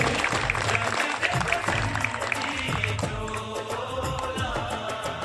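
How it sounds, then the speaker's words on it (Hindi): Audience applause at a ceremony, a steady dense patter of many hands that continues for several seconds at moderate volume, mixed with a busy background of other sound. "तालियां बजा दीजिए साथियों"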